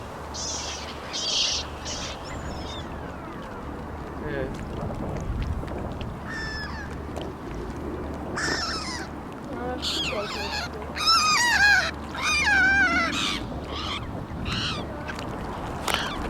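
Ducks and a swan calling at the waterside, with repeated honks and quacks over a constant outdoor background, some calls close and loud, others fainter, with a few brief voices in between.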